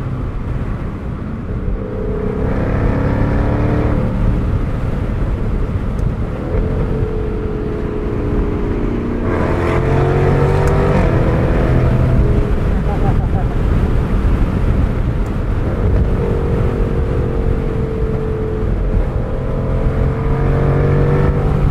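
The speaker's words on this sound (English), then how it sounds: "This is about all the exhaust you'd ever want from a car like this." A 2021 Jaguar F-Type R AWD convertible's exhaust swells and falls through several rising pulls, loud and close, with heavy wind rush from the open top throughout.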